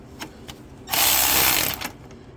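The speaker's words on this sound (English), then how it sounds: "now I'm using this electric ratchet to loosen it up." An electric ratchet loosening a bolt on the starter of a Toyota Land Cruiser Prado or Hiace, a close, steady motorized whir lasting nearly a second, framed by faint clicks before and after.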